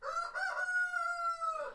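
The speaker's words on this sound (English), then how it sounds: "As we see the roosters back this morning." A rooster crows once in the morning, a single clear, drawn-out call that rises and holds before dropping off at the end, fairly close and alone with no other noise.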